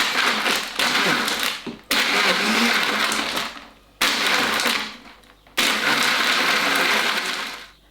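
A loud, close blender grinds through frozen watermelon in four long roaring bursts, each cutting off abruptly before the motor revs up again.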